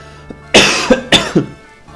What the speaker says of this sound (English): This cough, man. This cough. It's fucking rough.